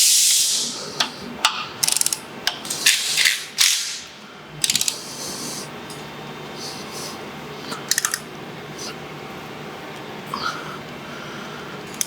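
Torque wrench ratcheting in quick bursts of sharp clicks while a Harley-Davidson rear axle is tightened, louder bursts early then sparser clicks over a steady shop background.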